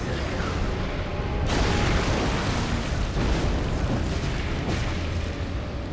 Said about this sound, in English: You're getting a cannon to the face.